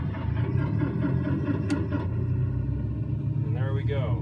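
A Cessna engine starting up in a flight simulator home cockpit gives a steady low rumble like an idling motor, loud and continuous throughout, with a brief higher whir near the end and no talking.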